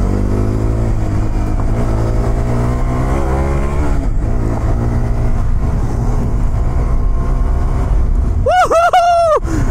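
A new Hero Xpulse 210 motorcycle accelerates with a close, loud engine drone that rises in pitch with brief dips at gear changes. A sharp, high warbling burst comes near the end.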